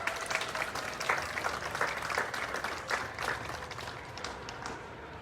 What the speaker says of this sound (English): So a big round of applause for Mr. Chris Young.